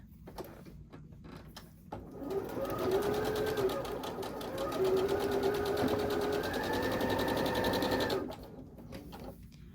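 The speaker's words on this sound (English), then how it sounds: "we're going to sew them together like a 4-patch" A sewing machine stitches quilt patches into a four-patch pinwheel block, running in a steady whirring burst of about six seconds after a quiet start, close and clear with no talking.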